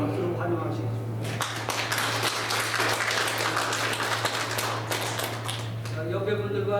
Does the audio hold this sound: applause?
yes